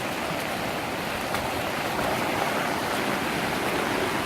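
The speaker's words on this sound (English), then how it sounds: "Certainly more than a brook now" A brook swollen by Hurricane Harvey rain rushes past a yard next to a golf course, making a dense, steady roar of fast water that stays loud and unbroken throughout with no voices.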